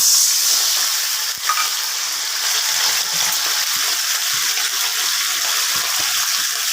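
Water poured into a pan of garlic fried in oil bursts into a loud, steady, close sizzle that hisses continuously with a few faint pops.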